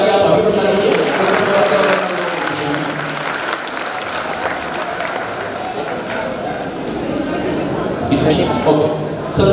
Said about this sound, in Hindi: एक छोटा ताली आप अभी बजा लीजिए।